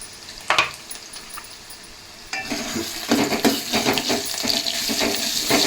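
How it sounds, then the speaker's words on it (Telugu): Onions and green chillies sizzle in a pan with ginger garlic paste for a red lentil curry, a steady frying hiss that swells louder midway, broken by stirring scrapes and clinks of a utensil, with no voices. "ఈ విధంగా బాగా ఎర్రగా వేగిన తర్వాత మనం దీనిలోనికి ఫ్రెష్ అల్లం వెల్లుల్లి పేస్ట్ అనేది యాడ్ చేయాలండి"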